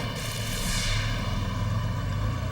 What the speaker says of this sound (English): The plane follows the original car.